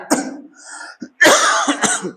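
A person coughs nearby, a short hack, a pause, then a harsher longer burst with a throat-clearing rasp.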